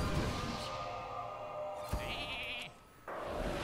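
Sheep bleating from a Polymorph spell in the Hearthstone card game: a single wavering game-sound bleat over a steady bed of game music and effects, with no talk.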